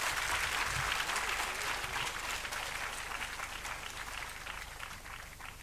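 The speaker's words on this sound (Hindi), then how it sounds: "मैं चाहूँगा तालियाँ बड़ी ज़ोरदार होनी चाहिए" An audience at a book launch gives loud, continuous applause to welcome a speaker to the stage, dense clapping from a crowded room that fades slightly toward the end.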